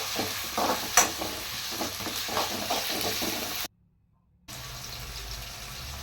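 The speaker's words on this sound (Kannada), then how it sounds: "ಹಾಕಿ ಮಿಕ್ಸ್ ಮಾಡಬೇಕು, ಚೆನ್ನಾಗಿ ಫ್ರೈ ಆಗಬೇಕು." Carrot and capsicum being stirred and fried in a pan for Schezwan fried rice, a steady close sizzle with scraping stir strokes, then a brief silent gap before the frying resumes.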